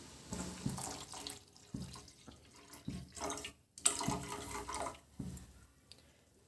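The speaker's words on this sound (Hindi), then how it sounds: "पतीले में डालेंगे पानी, इतना पानी" Water poured from a vessel into a cooking pot for tea, a few separate splashing pours with short pauses between them, close and moderately loud.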